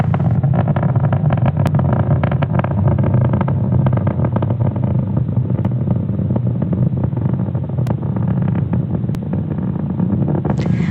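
Falcon 9 rocket engines roar during a Starlink launch from Cape Canaveral, a steady loud low rumble that holds unbroken throughout, with wind buffeting the microphone.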